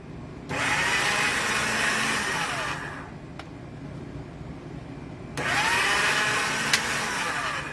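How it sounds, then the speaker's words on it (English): Polymer clay run through a motorized pasta machine, a steady loud mechanical whir in two long passes with a brief quieter pause between them. "Let me run that through the pasta machine."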